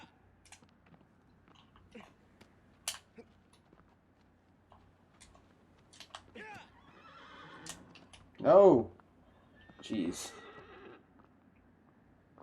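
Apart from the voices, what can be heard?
horse neighing in a video game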